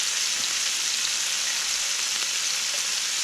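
Oil frying hard in a pan over a cooking fire, a loud, steady hiss and crackle that runs on unbroken from start to finish with no voices.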